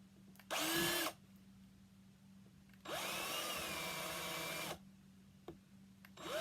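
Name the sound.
power drill drilling hole in base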